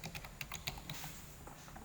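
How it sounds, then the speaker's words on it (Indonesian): Password being typed on a computer keyboard during a login: a quick run of light, irregular key clicks, close and fairly quiet, with no voice. "kemudian kita masukkan passwordnya"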